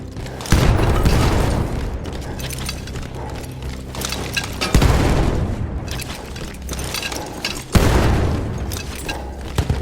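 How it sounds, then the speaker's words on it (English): Artillery gun explosions in the Battlefield 1 game, three heavy booming blasts spaced several seconds apart, each followed by a long rumbling, crackling roar, loud and close over dense battle noise. "That explosion was one of the sweetest sights of the war for me."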